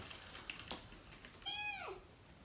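A single faint, high-pitched kitten meow rises and falls, preceded by a few soft clicks in a quiet setting.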